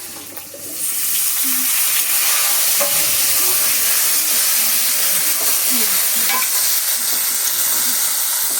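Potato and eggplant coated in salt and turmeric hitting a pan with bay leaves in oil, bursting into a loud, constant sizzle after a brief quiet start, close and without talking.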